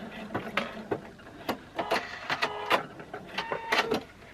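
Electric sewing machine stitching back over itself on a fabric-wrapped rope bowl, several short whirring bursts of needle motor with brief pauses between runs, close and clear.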